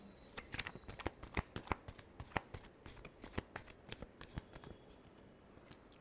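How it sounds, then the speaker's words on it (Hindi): Tarot cards are shuffled by hand up close in a quick run of crisp riffling snaps that stays busy and fairly even for several seconds, with no one speaking. "Last shuffle."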